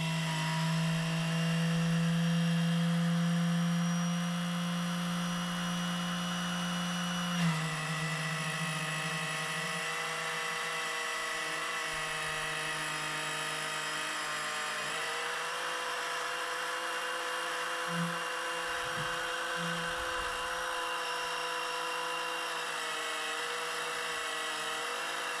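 An electric pump sucks oil out of a pressure washer's catch can, giving a steady, tonal mechanical whine that drones on without a break, with the pitch shifting slightly partway through.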